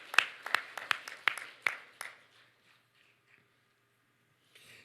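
A church congregation claps during a worship service, a short burst of about eight sharp, roughly regular claps that quickly thins out and fades into near silence.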